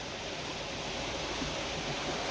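Water pours down a trough into the water wheel of an old mill, a dense, constant rushing roar that stays loud and unbroken throughout.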